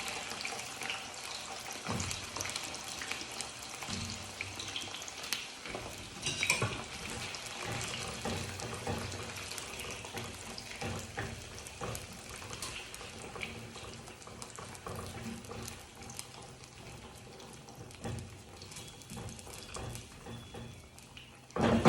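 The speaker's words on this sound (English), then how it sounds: "So you can repeat this process until you are done frying your yam." Yam slices frying in hot oil, a steady close sizzle and crackle with small pops, continuous and fairly faint, with no voices over it.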